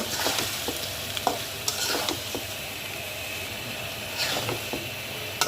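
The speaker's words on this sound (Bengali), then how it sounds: "ঝুরি করে রাখা ডিমটা দিয়ে দেব। নেড়ে চেড়ে এটা মিশিয়ে নেব।" Crumbled egg being stirred into sweet pumpkin frying in a pan, where sharp spatula scrapes come every second or so over a constant sizzle, heard up close without speech.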